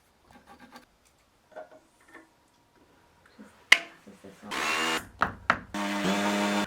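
A Bosch power drill whirs in short bursts after a few quiet taps and clicks, loud and close, with brief stops and restarts of the motor.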